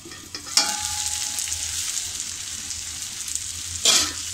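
Onion and tomato masala frying in hot oil for paneer masala, a steady close sizzle with a low hum beneath and two brief louder bursts of stirring.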